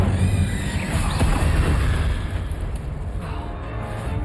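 An Incendio fire spell cast in the video game Hogwarts Legacy: a loud, booming burst of flame that roars steadily, then eases to a lower rumble partway through, with no talk over it.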